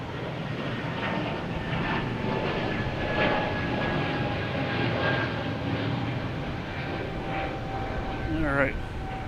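A JetBlue Airbus A220 jet airliner at Boston Logan Airport gives a steady, loud broadband engine roar with faint whining tones, holding constant throughout with a brief rising whine near the end.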